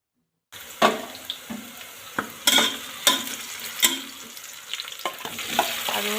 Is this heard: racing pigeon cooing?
no